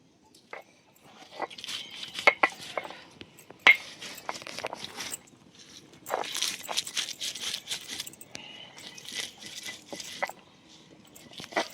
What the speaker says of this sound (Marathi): आता मीठ टाकून वाटून घेते